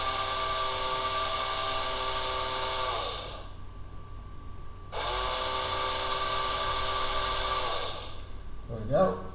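A 1.2 mm drill bit whines steadily as it reams a small plastic RC helicopter rotor head part, running for about three seconds, stopping briefly, then running again for about three more seconds.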